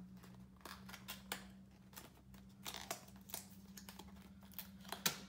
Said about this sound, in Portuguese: Agora eu vou abrir a caixinha, então. Tentar não rasgar ela.